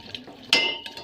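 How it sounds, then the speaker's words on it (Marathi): A spoon stirs homemade Maggi noodles in a pan, with a sharp metallic clink and scrape in a brief, close burst of kitchen noise. "आता आपली मॅगी अशी चमच्याने फिरून घ्यायची, मिक्सअप करायची."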